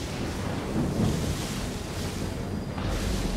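A storm at sea in Assassin's Creed 3, with a dense, continuous roar of wind and crashing water that holds steady and loud throughout, a low rumble underneath, and no speech.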